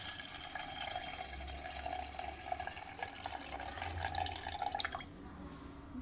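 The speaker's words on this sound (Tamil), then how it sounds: "இப்போ 2வது அலசின தண்ணியை நம்ம ஊற்றிடுவோம் பொங்கல் பண்ணலாம்." Rice rinse water pours steadily into a pot with bubbly trickling and splashing, then the flow stops and leaves quieter dripping, close by.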